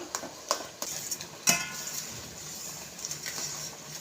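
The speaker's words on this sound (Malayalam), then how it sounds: "ഇനി ഇതിലേക്ക് നമ്മൾ വേവിച്ച് വെച്ചിരിക്കുന്ന അട ചേർത്ത് കൊടുക്കാം ഇനി ഇത് കൈയെടുക്കാതെ ഇളക്കി കൊടുത്തുകൊണ്ടിരിക്കണം" Cooked ada stirred nonstop in a pan for Onam ada pradhaman, heard as faint, scattered clicks and scrapes of a spoon against metal, with one sharper knock partway through and no talk.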